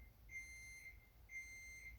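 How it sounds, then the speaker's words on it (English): A kitchen timer counting down for a baking quiche beeps in two steady, high electronic tones. The beeps sound faint and distant in a quiet room, with no talk. "sorry, that's my quiche timer."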